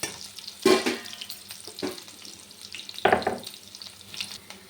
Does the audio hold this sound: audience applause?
no